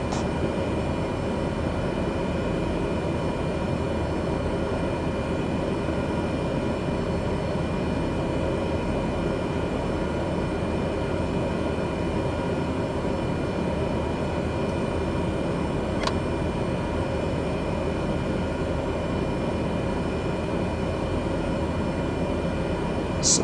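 A simulated airplane engine drones steadily through a climb in Microsoft Flight Simulator 2020, a constant even hum with no talk.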